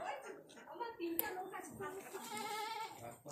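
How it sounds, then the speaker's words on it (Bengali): Small young goats bleat repeatedly in a rural Bengal village farmyard, several wavering cries close by, while a person speaks softly among them. "কত ছোট ছোট ছাগল।"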